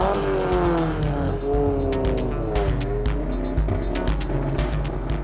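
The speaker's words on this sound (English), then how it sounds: "And a lot of loud cars." Several loud cars rev and idle at a packed city car park meet where hundreds gather to show off their cars, engines droning continuously with rising and falling revs and a steady rumble throughout.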